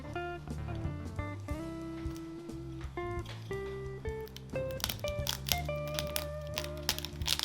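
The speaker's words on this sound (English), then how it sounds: "Skin's crunchy." Crisp crunching and crackling as a knife cuts the crusty roasted skin of a whole hog, several sharp bursts under background music, fairly quiet.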